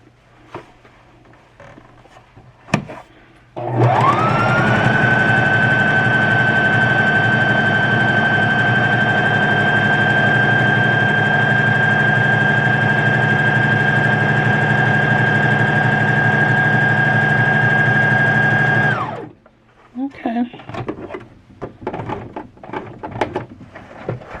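A Brother sewing machine stitches a test seam at a mid-range stitch setting. Its motor whirs steadily and close for about fifteen seconds, starting and stopping abruptly, with quiet handling noises before and after.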